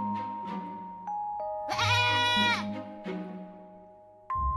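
Cartoon goats bleat in a string of short, nasal cries, with one longer, louder bleat in the middle, over a soft chiming tone in a comedy animation.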